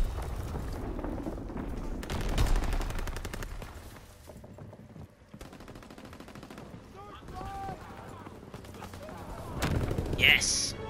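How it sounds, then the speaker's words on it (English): Call of Duty hardcore team deathmatch gameplay with bursts of machine-gun fire and heavy explosive booms from dropped bombs, loud and layered, with brief voices in the mix. "I'm gonna drop a big bomb"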